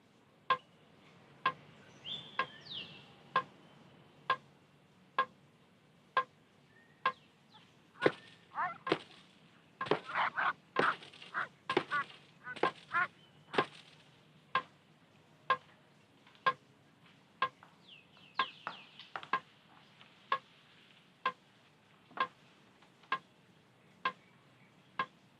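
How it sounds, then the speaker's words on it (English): Regular sharp cracks repeat at a steady beat about once a second, like a stick whacking a taut line, with faint birdsong and rustling between. "make that noise by beating the clothesline with a stick"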